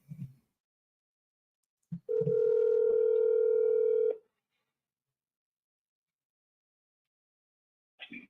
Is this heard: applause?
no